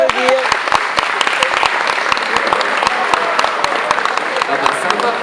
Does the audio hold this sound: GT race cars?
no